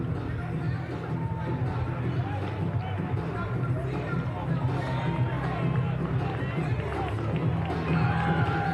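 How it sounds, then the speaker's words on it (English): A crowd of Abbotsford fans rise and cheer on the Falcons at a high school state championship baseball game, a sustained roar and babble of voices heard from a distance. "Abbotsford fans now getting to their feet, cheering on the Falcons"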